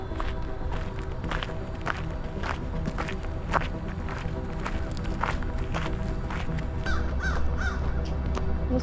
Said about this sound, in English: Those crows.